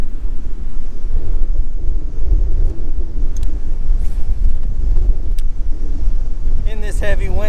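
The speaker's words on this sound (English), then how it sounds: "look at this wind. This wind is crazy." Strong wind buffets the microphone continuously during kayak fishing on open water, a loud, steady low roar filling the whole stretch, with a voice speaking briefly near the end.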